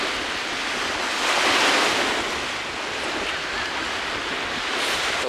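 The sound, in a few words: waves of the Baltic Sea at the shore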